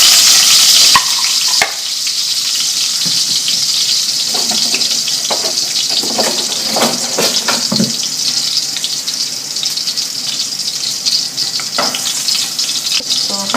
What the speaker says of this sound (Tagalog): Hintayin lang natin guys na ma-lightly brown ang ating garlic.